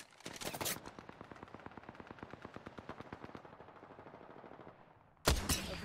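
Rapid automatic gunfire in Apex Legends, a fast, evenly spaced stream of shots lasting several seconds and gradually fading, followed by a sharper, louder burst at the end.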